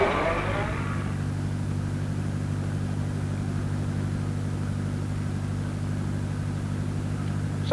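A 1940-era car idling or rolling up nearby, a steady low engine hum with harmonic drone that holds evenly throughout after a brief brighter burst at the start.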